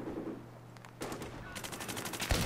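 Battlefield 3 gunfire: rapid bursts of automatic shots crackle at moderate volume, a short volley followed by a faster string of shots near the end.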